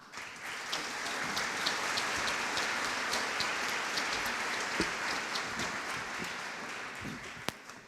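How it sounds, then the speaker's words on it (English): Applause from the audience at a defense college graduation ceremony fills the room as a dense, even patter of many hands, steady throughout with a few sharper claps standing out near the end. "a warm round of applause"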